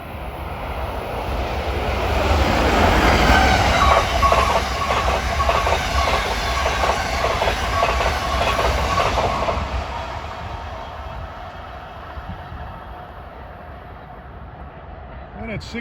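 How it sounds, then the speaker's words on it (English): A 3900 series express train from New York to Trenton rushes past at Rahway with a loud, rising roar and rhythmic clatter of wheels, then slowly fades into the distance. "that was another one of those 3900 series trains. Expresses from New York to Trenton."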